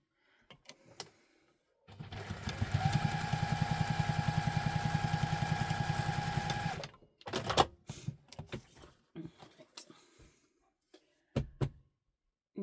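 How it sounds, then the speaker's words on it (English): A sewing machine runs a steady burst of rapid, even stitching along the side of a handmade Quinn wallet for about five seconds, followed by a few short stop-start runs and quiet handling clicks. "we're going to stitch along here."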